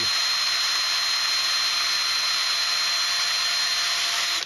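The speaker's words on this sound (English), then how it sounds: "So I drill out the side where the head of the screw is going to be." A power drill with a 1/8 inch bit whines continuously at high speed drilling out a 3D-printed part, loud and close, then cuts off abruptly at the end.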